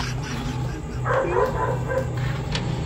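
A dog barks at night, several yelping barks up close over a low steady background hum.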